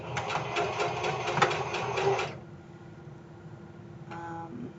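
A home sewing machine stitches fabric in a fast, steady rattle for about two seconds, then stops, leaving a low hum and a brief mechanical whir near the end.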